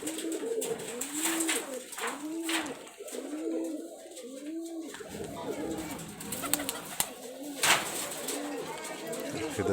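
High flyer pigeons cooing nearby in repeated soft, throaty rolls that overlap one another, with a faint voice in the background.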